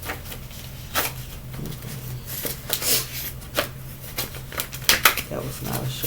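Oracle cards are shuffled by hand in a quiet room, giving soft irregular riffling and slapping bursts with faint rustles between them, close and fairly quiet.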